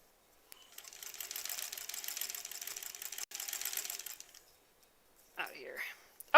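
Sewing machine stitching through the thick label of an embroidered koala zipper pouch, a rapid close mechanical whirring run of about four seconds with a short hitch, then quiet and a brief voice at the end.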